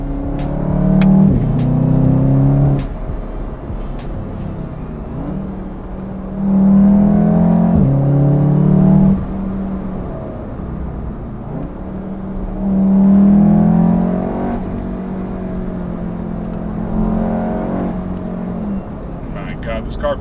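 A VW MK7 Golf R accelerates hard through a canyon, its engine rising and falling in strong surges heard from inside the cabin, loud and steady with people talking over it.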